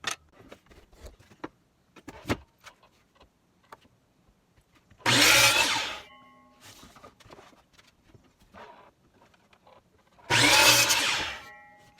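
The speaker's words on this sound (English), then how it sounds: "Then we can drill the holes and put it in." A power drill bores holes in wood while a canoe seat is being built, two loud bursts of about a second each several seconds apart. Between them come quiet handling clicks and knocks.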